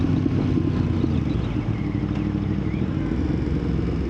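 Yamaha MT-10 SP motorcycle accelerating hard in third gear, a loud, dense, continuous engine roar and rumble held steady throughout, close and without talk.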